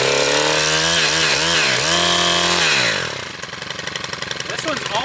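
A cold STIHL chainsaw fires on a single pull, its engine revving loudly with a rising and falling pitch before settling into a rough, buzzing idle, close by.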